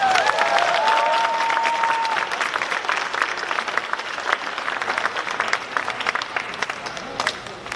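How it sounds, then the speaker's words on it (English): An audience at a white coat ceremony for physical therapy students claps in a sustained, dense burst, loud at first and gradually thinning, with a faint voice or tone briefly audible near the start. "Round of applause for Nora."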